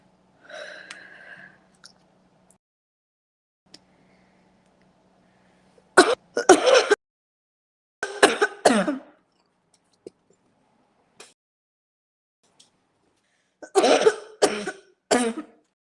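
Coughing and throat clearing after smoking mullein: a faint throat clear at the start, then two loud bursts of harsh coughs around six and eight seconds and a final cluster of close coughs near the end, with quiet gaps in between.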